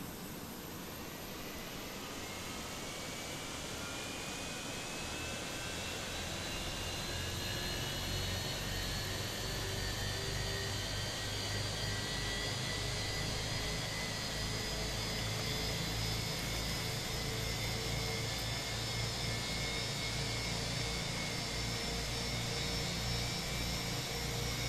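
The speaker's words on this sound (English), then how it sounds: "Starting engine number 1." An IAE jet engine on an Airbus A319 spools up in Microsoft Flight Simulator, a rising whine climbing steadily in pitch over a deep rumble that grows louder and then settles into a sustained roar.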